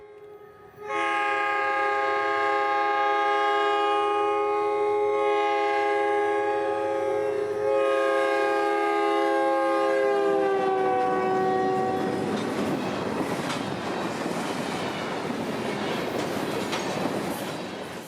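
A US Sugar freight train led by an SD40-2 locomotive passes close by in Fort Pierce, Florida, its horn blaring in long chords before giving way to loud rumbling and the steady clatter of rolling wagons.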